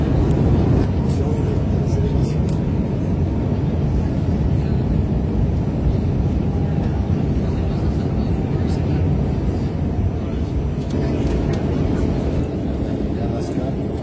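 A passenger airplane landing on arrival in San Francisco: a loud, steady broadband roar of engines and rushing air that holds for the whole stretch, with a slight swell near the end.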